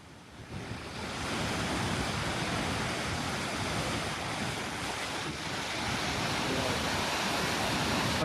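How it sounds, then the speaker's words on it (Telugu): Bogatha waterfall roaring as a steady, loud broadband wash of falling water, continuous and unbroken from start to end, with no voices over it. "ఫైనల్గా బొగతా వాటర్ ఫాల్ వచ్చేసింది"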